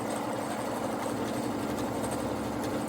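A Pfaff Creative Ambition 640 sewing machine with an embroidery foot runs steadily while free motion stitching, giving a fast, continuous mechanical whir with rapid needle clatter at fairly low, even volume.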